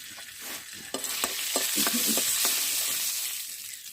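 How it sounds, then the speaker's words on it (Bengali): Salt and turmeric hit hot oil in a pan with a bright, close hiss, while a spoon scrapes and taps through it in quick irregular strokes; nobody speaks. "তেল গরম হয়ে গেছে, এই তেলে দিয়ে দিচ্ছি লবণ, হলুদ,"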